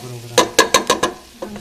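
Fried rice being stirred in a pan, with five sharp, close scrapes of a utensil in quick succession over a low sizzle, then a softer final scrape.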